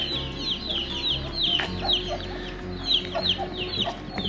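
Chickens and roosters cluck and chatter repeatedly at moderate distance in Pakse, Laos, with scattered bird calls and a low background hum.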